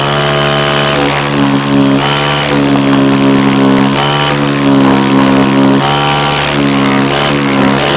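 A restored air compressor from a 1960 Ford F100 restoration runs loud and close, with a steady mechanical drone and rhythmic pumping surges repeating every second or two.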